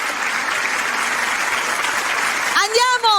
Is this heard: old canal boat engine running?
no